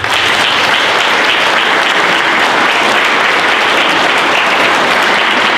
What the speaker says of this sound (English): A round of applause just for you all being here.